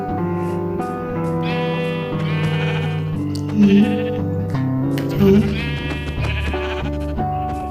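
Bleating from a Minecraft Bedrock Edition goat sounds twice over a continuous synthesized music track, short and somewhat buried in the mix.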